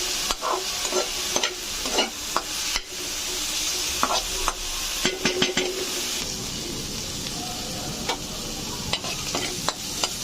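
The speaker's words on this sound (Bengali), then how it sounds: "ভেজে নিব কিছুক্ষণ" Onion paste and mutton frying in a pan, a steady close sizzle broken by repeated scraping and stirring strokes of a spoon, with no talking.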